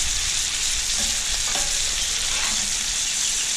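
Butter ladled over a steak frying in a hot pan, a loud continuous sizzle with a few faint spoon clinks against the pan.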